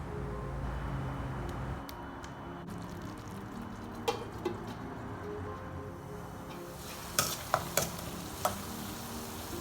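Rohu fish curry is stirred in a pan with a soft, continuous sizzle, and a few sharp clinks of a utensil against the pan come in the second half.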